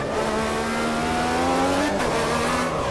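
Sim racing car engine revving hard as the throttle is pushed too far, a loud, close, buzzing whine with rising and shifting pitch and a brief dip near the end.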